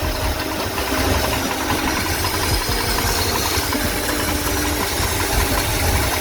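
A 1986 Ford F250 diesel engine idles steadily and close up, a continuous rumble with a faint rhythmic knock and some vibration, with no talking and no change in pitch.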